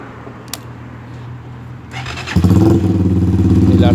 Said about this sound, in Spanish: El arranque de la moto es absolutamente inmediato.